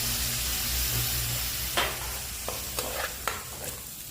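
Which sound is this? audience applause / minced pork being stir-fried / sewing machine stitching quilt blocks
minced pork being stir-fried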